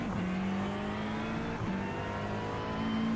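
A McLaren GT race car engine in a racing video game at Spa drones loudly and steadily, holding a high revving pitch with a brief dip and gear-shift change before climbing again.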